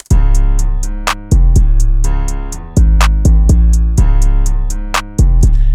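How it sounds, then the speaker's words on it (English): A deep booming 808 bass with sliding pitch drops, punctuated by sharp claps in a steady beat, loud and alone. "And the 808 and the claps, they all sound like this"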